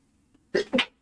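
A single close, sharp sneeze in two quick bursts, an intake then an explosive release, alone in quiet.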